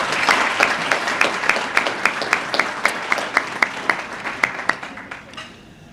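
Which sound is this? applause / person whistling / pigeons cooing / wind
applause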